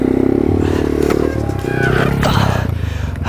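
A motorcycle stuck in a hole revs hard with its treadless rear tire spinning, a loud close engine whining up and down in uneven bursts with scraping clatter, under someone talking.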